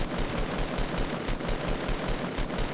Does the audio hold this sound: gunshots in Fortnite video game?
yes